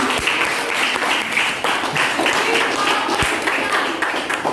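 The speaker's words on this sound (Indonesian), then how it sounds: "Tepuk tangan untuk kita semua." A classroom of students applauds together at the end of a lesson, a loud, busy wash of clapping with a few sharper individual claps standing out.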